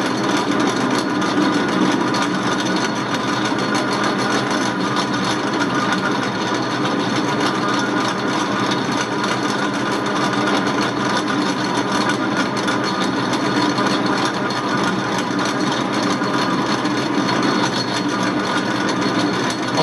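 Steel stock is reamed while turning on a lathe spindle in a home shop, giving a continuous loud machine whir with a steady grinding hiss that never lets up and no voices.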